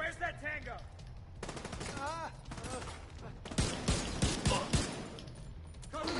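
Shotgun fire in the video game The Division 2, with repeated sharp blasts clustered in rapid bursts amid other gunfire, alongside ambient game noise and a voice talking intermittently.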